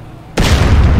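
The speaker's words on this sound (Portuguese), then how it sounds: "Eu gosto de ficar explodindo esses bonecos aí" A sudden loud boom from an explosion in GTA running a ragdoll physics mod blows away characters, cutting in abruptly after a quiet moment and leaving a sustained roaring rumble.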